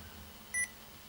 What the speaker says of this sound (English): beep, so it sounds like this.